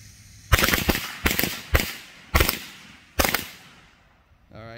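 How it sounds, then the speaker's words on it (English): Loud, sharp bursts of Wolf Pack firecrackers popping in rapid clusters, five or so volleys in a row, each trailing off with echo, outdoors. "first up is the Wolf Pack Firecrackers"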